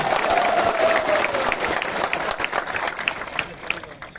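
Crowd at a first political rally in Sabroom claps for itself, a dense burst of applause that thins into scattered claps over a few seconds, with a voice briefly audible at the start.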